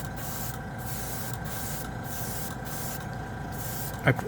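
A spray gun hisses steadily in repeated bursts with brief gaps, spraying a lacquer coat of metal paint in a spray booth, a continuous airy spray close by.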